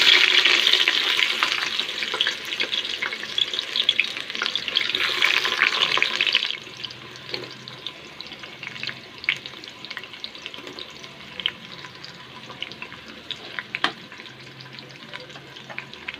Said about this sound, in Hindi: तो दोस्तों ऑयल गर्म हो चुका है, और अभी हम इसमें प्याज डालते हैं।